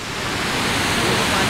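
Lahna waterfall near Ratu, Ranchi, Jharkhand pours in a steady, loud, broadband roar of falling water, continuous and close throughout with no voices.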